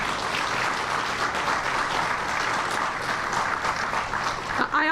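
Audience at a Chicago recovery plan press announcement applauds steadily for several seconds, a dense continuous clapping that stops abruptly at the end.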